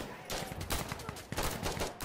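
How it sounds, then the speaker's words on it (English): Rapid bursts of gunfire crack in Insurgency Sandstorm, close, loud automatic shots in tight clusters with short gaps between volleys. "I gotta keep shooting them"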